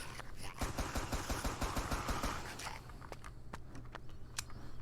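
Rapid bursts of video game gunfire in Empty Vessel, a fast run of loud sharp shots that gives way to a few scattered, quieter clicks and impacts.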